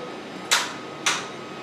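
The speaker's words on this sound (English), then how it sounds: "That noise you heard, that was me touching the joystick." Touching the joystick of a Permobil C300 power wheelchair makes two short, sharp clicks about half a second apart, each with a quick decay against a quiet background.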